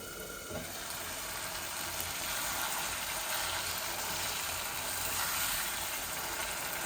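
Chicken liver fries slowly in a pan with a soft, steady hiss and fine crackle, alone and without voices, keeping an even level throughout.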